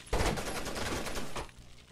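Rapid automatic gunfire from the Rainbow Six Vegas 2 video game rattles in one short, close burst lasting just over a second, then cuts off.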